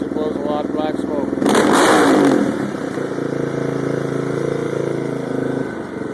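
A 2002 660R engine fitted with a big cam, on full choke and idling high, runs roughly under talk, with a louder surge of revving midway before settling back to a steady rumble.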